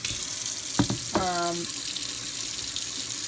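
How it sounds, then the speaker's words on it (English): Lukewarm tap water runs steadily over rice being washed in a bowl for chicken biryani, a constant close rush of water with a brief squeaky tone partway through. "I'm washing it with lukewarm water, so not cold or not warm, just right in the middle. And I just want to wash the rice."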